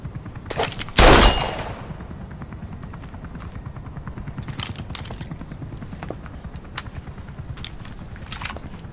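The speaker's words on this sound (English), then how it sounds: "That's an automatic." Automatic gunfire in Metal Gear Solid V: The Phantom Pain, with one loud sharp blast followed by scattered fainter shots over a steady rapid low rumble, like distant machine-gun fire or rotor thrum.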